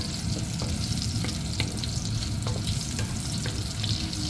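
Meat for a stir-fry fries in its own rendered fat, a dense, steady sizzle with occasional scraping stirs of a spatula, close and without speech.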